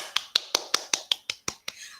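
In a classroom, applause for a presenting group comes across as about nine crisp, evenly spaced claps in quick succession, close and fairly clear.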